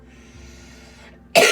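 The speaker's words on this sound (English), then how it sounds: "I apologize about my coughing." One sharp, loud cough bursts out near the end after a stretch of quiet room hum, with no talking.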